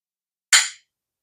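A single sharp metallic snap as the bail bell spring of a vintage Penn 714 spinning fishing reel trips shut, close and bright with a quick decay.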